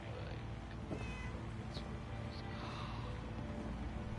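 A cat gives a couple of faint, brief meows somewhere in the room, heard under a steady hiss of background noise and a gaming stream's ambience.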